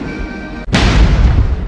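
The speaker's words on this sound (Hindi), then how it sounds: "राष्ट्रीय धुन के साथ जो सेरेमोनियल बैटरी है वो 21 तोपों की सलामी दे रही है।" A ceremonial artillery battery fires one round of a 21-gun salute, a single heavy boom that bursts loudly and rolls on with a long, rumbling decay over faint background tones.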